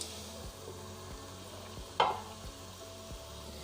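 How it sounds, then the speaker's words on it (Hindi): Chicken macaroni with salt, chilli and soy sauce sizzles quietly in a pan, a steady low frying hiss broken by one sharp clink or scrape midway. "इसे हम बस 2 से 3 मिनट तक फ्राई करेंगे ऐसे ही"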